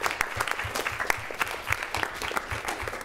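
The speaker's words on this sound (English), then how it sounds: "Can we please give them a round of applause?" A small gathering claps for volunteer helpers at a student government meeting, a brief, fairly thin round of distinct hand claps, moderately near.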